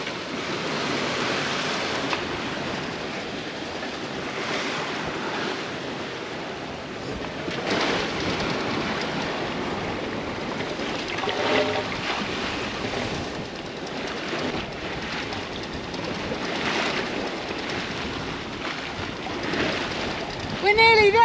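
Waves surge and hiss around a sailboat crossing the Caribbean Sea non-stop. The rush of water and wind stays steady and loud throughout.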